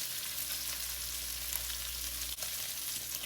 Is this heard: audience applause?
no